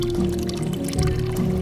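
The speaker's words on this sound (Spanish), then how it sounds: "el agua que sigue emanando para el pueblo" Water pours steadily from a village stone fountain along the Geira and Arrieiros route, a continuous close splashing flow into a basin.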